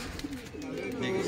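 Pigeons at a loft give soft low cooing beneath a voice and background noise, brief and faint.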